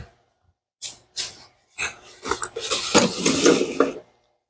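Metal bolts rattle and clink as hands rummage through a box of them in a garage during header work on a budget turbo Mustang, a few short bursts of clatter building into a longer, busier jangle.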